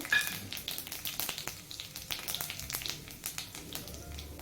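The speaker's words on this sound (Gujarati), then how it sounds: "હવે આપણું તેલ સરસ ગરમ થઈ ગયું છે, તો આપણે પહેલાં એમાં સૌપ્રથમ 1 ટેબલ સ્પૂન જીરું નાખીશું" Cumin seeds dropped into hot oil crackle in a quick spray of small pops and sizzles, moderately close and fairly soft, with no talking.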